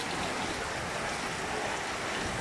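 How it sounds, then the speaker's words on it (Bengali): Rain falls in a constant, loud, even wash of hiss and patter, with no voices. "অনেক বৃষ্টি হয়ে হয়েছে দেখতে পাচ্ছেন"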